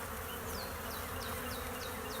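A colony of honeybees buzzes steadily around fresh comb, close and continuous, with a few individual bees whining past in quick rising and falling swoops.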